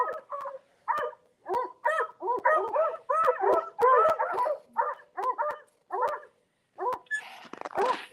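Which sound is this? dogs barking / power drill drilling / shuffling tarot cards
dogs barking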